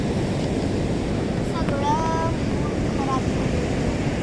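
Surf at Achara beach keeps up a continuous, fairly loud wash under wind, while a few faint tonal voices or calls rise briefly in the middle.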